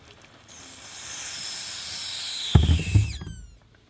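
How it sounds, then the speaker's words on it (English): Boiling water poured over a Chinese ceramic tea pee boy figure, a steady rising hiss of hot water and steam followed by a short burst of splashing and gurgling that fades out. "now when we pour boiling water back over him, the air expands and back out comes the water"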